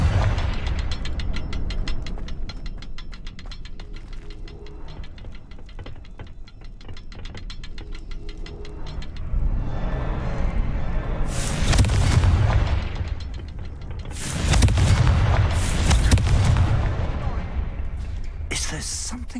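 Confringo spell explosions in Hogwarts Legacy, a series of loud fiery blasts bursting in two or three clusters over a steady game background of mechanical clatter and ambience.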